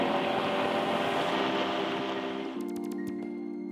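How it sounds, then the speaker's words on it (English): Aircam twin-engine light aircraft with its left engine being throttled, a loud, steady propeller drone whose pitch shifts partway through, heard alone without talking. "Okay, we'll throttle up on the left engine."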